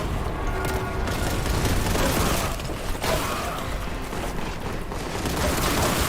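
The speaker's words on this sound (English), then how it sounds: "Grenade in here." Grenade blasts and rapid gunfire in a first-person shooter video game, a dense continuous barrage of booms and shots at close range with no clear pauses.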